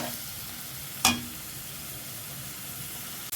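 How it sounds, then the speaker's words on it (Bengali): Garlic and ginger fry in a pan with a steady, even sizzle that stays close and constant, broken by one sharp clink near the start and a brief dip at the end. "এই 1 মিনিট একটু ভাজা নিলাম"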